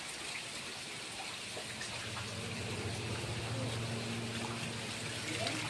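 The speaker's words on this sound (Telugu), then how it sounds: "పెద్ద వర్షం, చాలా పెద్ద వర్షం." Heavy rain falls beside a village home, a dense, continuous hiss and patter of drops that stays steady and close throughout, with a low hum faintly underneath.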